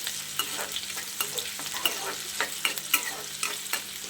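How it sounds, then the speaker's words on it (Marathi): Finely chopped onion sautéing in oil in a pan, a soft steady sizzle with light scraping clicks from stirring at an uneven rhythm, close and fairly quiet. "बारीक कट कांदा घालायचा आणि एक दोन मिनटासाठी कांदा तेलामध्ये परतून घ्यायचा आहे आपल्याला"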